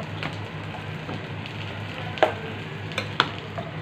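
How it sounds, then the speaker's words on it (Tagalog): Vegetables for Filipino pakbet fry in a pan with a steady, fairly soft sizzle, while a spoon scrapes and clicks against the pan a few times as they are stirred, with no talking. "Ayan, halu-haluin natin."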